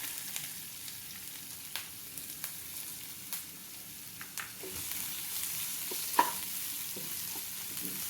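Rampe leaves, curry leaves and onion frying in oil in the same pan used for fish, a quiet continuous sizzle with regular light clicks of a spoon stirring, growing a little brighter toward the end.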